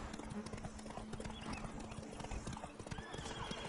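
The horse Roach from The Witcher 3 video game trots with steady clip-clop hoofbeats, and a whinny rises over the rhythm, all close and clear alongside game audio.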